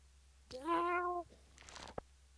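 Cat meowing in the farming video game Stardew Valley, a single clear, drawn-out meow up close, then a short rustle and a soft click in quiet surroundings.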